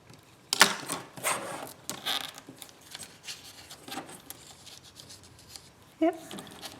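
Scissors trim paper for an envelope journal in short crunchy snips and rustles at close range, quiet and irregular, with a sharper cut near the start and a small clack near the end.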